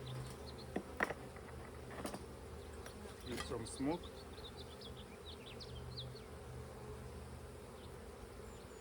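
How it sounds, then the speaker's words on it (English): Honey bees buzz steadily around an open hive during a split, a dense insect drone with scattered sharper passes near the microphone, while a person talks briefly over it. "I see bees are getting a little bit upset."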